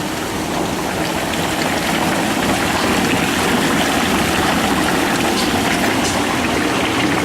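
Maple sap boiling hard in a sugar shack evaporator, a loud, continuous bubbling and hissing roar like rushing water, steady and close throughout.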